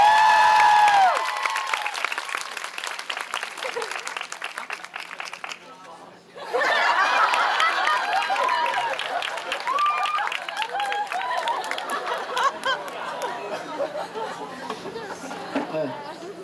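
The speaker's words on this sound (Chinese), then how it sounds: "嘉恩一个鼓掌耶" An audience at an open jam performance claps and chatters with scattered laughter, a sung or spoken voice at the very start, then a short lull before a fresh, fuller burst of clapping and crowd murmur.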